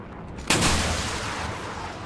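A rocket launch from the QN506 vehicle in the War Thunder video game: one sharp, loud blast followed by a sustained roaring rush that slowly fades.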